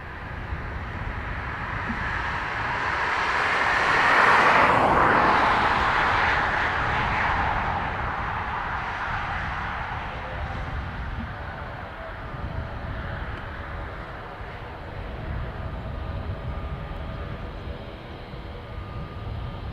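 An Airbus A330 arriving from Seattle lands on runway 10 left at Dublin Airport, its jet engine roar swelling to a broad peak at moderate distance, then fading into a lower, steady rumble as it rolls out.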